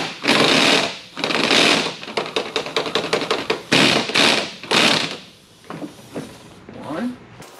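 Breaking loose the 17 mm cab body bolts on a 2015 Nissan Frontier Pro-4X, with loud bursts of rapid impact-tool hammering, several seconds of fast mechanical rattling, then quieter clanks and handling noises.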